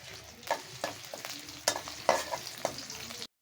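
Chopped onions dropped into hot oil with dried chillies for tempering, a crackling sizzle broken by repeated spatula scrapes and stirs, close and fairly quiet, ending abruptly.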